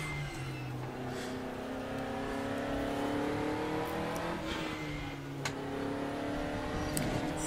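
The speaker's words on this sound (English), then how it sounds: "At least I can plant the throttle without having to worry about spinning the car." A DTM 2020 touring race car in RaceRoom at Motorland Aragon, engine note climbing steadily under full throttle with a brief dip around a gearshift before pulling up again, loud and close with no speech.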